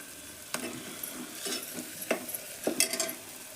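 Red chilli powder masala being mixed in a pan, with soft scraping stirs and a faint sizzle, several distinct spoon strokes against the metal over a few seconds, fairly quiet and close.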